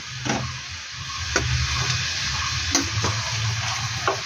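Sour jujube berries being stirred into a salted syrup for pickle, with a steady low sizzling bubble and several sharp spoon scrapes against the pot, close and clear with no talking.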